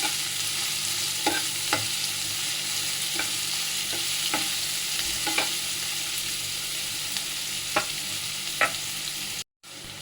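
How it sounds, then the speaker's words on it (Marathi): Onion cooking in a pan for kanda pohe, a steady close sizzle and frying hiss throughout with light periodic clicks of stirring, no talking. "आता कांदा ॲड करूया आपण. कांदा पण चांगला आपण शिजवून घेऊया."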